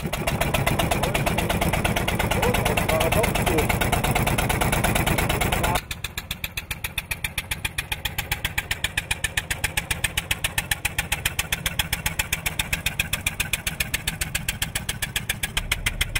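Engine of a replica 1900 Porsche Semper Vivus hybrid running steadily, a loud rapid chugging pulse heard close, its tone shifting partway through as it keeps hammering evenly.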